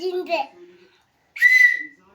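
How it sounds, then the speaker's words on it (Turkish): A voice, then a pause, then a shrill purple toy police whistle blown once in a short, loud burst. "Bakın düdüğümüzü, de bulduk. Mor düdük."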